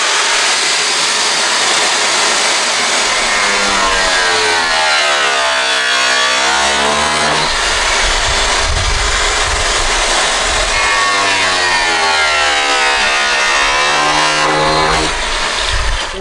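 A power cutter runs loud and close, its spinning blade whining in rising and falling sweeps as the engine revs up and down.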